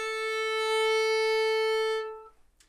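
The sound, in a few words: violin playing acciaccatura (Scotch snap) in Bach Minuet 3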